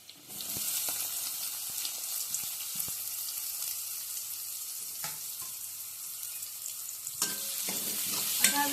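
Onion sizzles steadily in hot oil with green chilli and garlic for a cabbage bhaji, a dense continuous hiss with a few scraping stirs of a spatula against the pan near the end.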